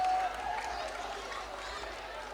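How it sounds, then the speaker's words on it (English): Audience at a school award ceremony applauding as a principal comes forward, a dense wash of clapping with cheering that stays steady and fairly loud throughout. "Please welcome them with a huge round of applause."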